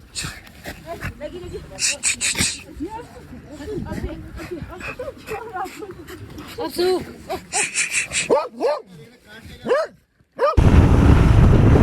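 Gaddi dogs bark in a mountain setting, repeated close barks and yips in irregular bursts mixed with people talking, ending in a loud rush of wind or engine noise.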